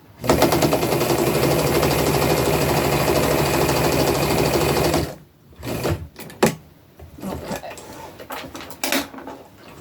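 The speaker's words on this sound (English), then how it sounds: "I'm just going to stitch it shut." A sewing machine stitches a shirt pocket shut, loud and close in a steady rapid whir for about five seconds, then stops and gives way to scattered clicks and handling clatter.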